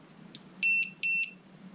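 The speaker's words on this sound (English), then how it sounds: "Now cover your ears because this is going to go beep." A 5S 100 amp BMS battery beeper gives a short click, then two loud, sharp double beeps in quick succession, close and alone.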